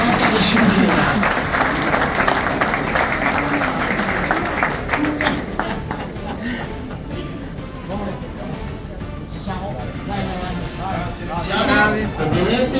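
An audience applauds the parish police at a regional amateur football awards ceremony in a hotel hall, loud dense clapping at first that thins and fades as voices and crowd murmur take over.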